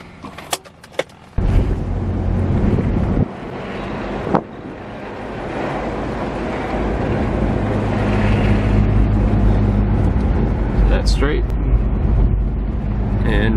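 A BMW E36 drives along at steady speed, tire roar and engine hum filling the cabin, with a few clicks and a door or window thump at the start and wind rushing throughout.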